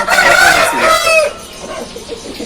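An Aseel rooster suffering from heat stroke and dehydration crows loudly and close for about a second, its call sliding downward, then trails off into a few softer clucks.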